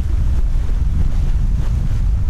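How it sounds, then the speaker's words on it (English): Strong gusty wind buffets a microphone aboard a single-handed racing yacht, a loud constant low rumble with rolling surges and no speech. "Pretty gusty, fluky wind."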